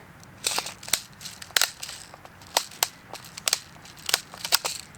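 An airsoft AR-15 BB gun fires a string of sharp, snappy pops, some in quick pairs and bursts, with irregular gaps between shots, close and fairly loud over faint background noise.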